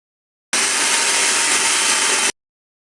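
A blender whirs through a liver mixture made with milk and eggs, one loud, steady burst of under two seconds that starts and stops abruptly, with no talk.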